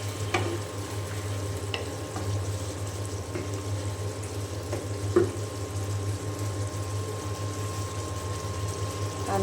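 Beef braising and stir-frying in a pot, a steady low sizzle and bubbling with occasional light spoon taps and one louder knock, constant background hum, no talk.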